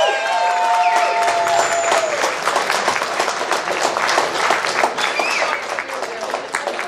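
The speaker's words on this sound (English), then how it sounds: "we need to give a round of applause to the families" A crowd claps and cheers at a holiday party, with sustained dense applause filling the room throughout and voices mixed into the noise.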